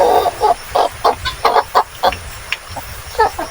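Chickens, including Black Australorp hens, cluck in short, close bursts in a new pen bedded with rice hull, a quick irregular string of calls with no talking.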